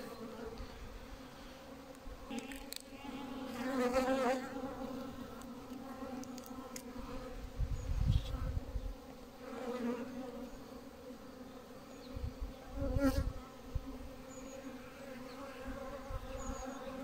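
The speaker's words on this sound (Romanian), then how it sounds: "albinele sunt nebunite după apă" Honey bees buzzing around beehives on a cool spring day, a dense continuous hum with individual bees swelling louder as they fly close past, no talking.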